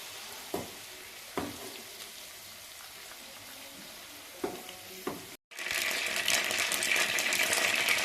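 Tinda (apple gourd) frying in oil, a faint low sizzle with a few soft clinks, then a sudden louder, dense crackling hiss after a brief gap.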